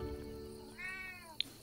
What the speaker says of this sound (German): Ja, hört ihr's? Hört ihr's? Das ist meine Katze und ist mein Zimmer.